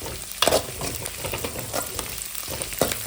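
Onions sizzle in hot oil with curry leaves and garlic, a close, continuous frying hiss broken by a few sharp scraping stirs of a spoon against the pan.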